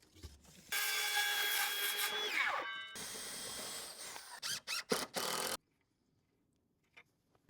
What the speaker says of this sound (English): here's the last board I just need to cut to fit